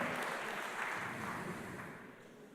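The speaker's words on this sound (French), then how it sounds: "j'invite la salle à les applaudir très chaleureusement" Applause from the audience at a health-themed opening session of a mutualist conference fills the room as a steady, moderately loud wash of clapping that slowly fades toward the end.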